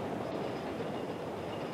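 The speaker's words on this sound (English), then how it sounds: "You can enjoy the scenic ride on the steep tracks of this cogwheel train." Rigi cogwheel train grinding steadily up the steep rack tracks toward Mount Rigi in central Switzerland, a continuous low rumble and rattle heard close from aboard, with no talking.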